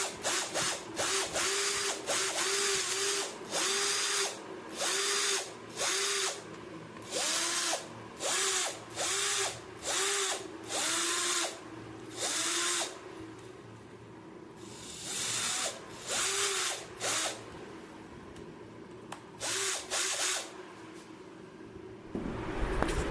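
A 2025 Enon cordless drill machine drills repeatedly in short bursts of high whirring, each a second or so long with brief pauses between, fairly close with no talking.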